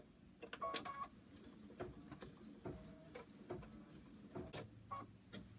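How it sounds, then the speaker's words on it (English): A home embroidery machine with a hooped project stitches the final tack-down around a stuffed bear's muzzle, a quiet run of rapid ticking and clicking needle strokes with small mechanical clatters at close range. "put my hoop back in the machine and stitch the final tack down for the muzzle"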